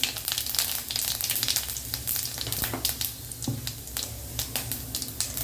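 Cumin and fennel seeds sizzle and crackle in hot oil in a pan for a mushroom gravy, a steady frying hiss with scattered pops close up.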